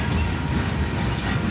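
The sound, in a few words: CP 7015 locomotive leading an eastbound crude oil train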